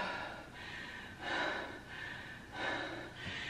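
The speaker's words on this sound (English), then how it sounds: "I'm breathing heavy." Heavy breathing after a strength and cardio workout comes in slow, loud, close breaths, about one every second or so, with no talking.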